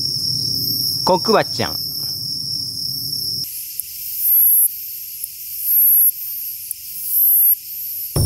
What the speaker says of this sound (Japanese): クツワムシが鳴いております。